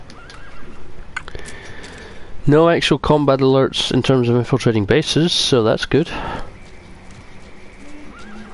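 A horse in the video game Metal Gear Solid V gives a loud, close, wavering whinny lasting several seconds, with faint game ambience before and after it and someone speaking over it.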